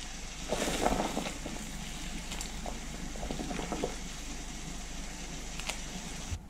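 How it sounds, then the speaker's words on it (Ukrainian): Water with two tablespoons of oil bubbling at a rolling boil close by as chicken dumplings cook in batches, a steady churning hiss with a few soft clinks and splashes, no voices. "Додаю 2 столові ложки олії, перемішую і партіями відварюю пельмені."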